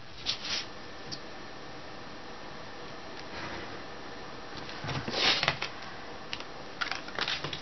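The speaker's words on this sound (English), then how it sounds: "So we make the mark and cut it there, then cut it away on that inch." Scissors cutting paper for a vintage mini album page, giving a few short crisp snips and rustles, with a denser run of cuts toward the end and no talk.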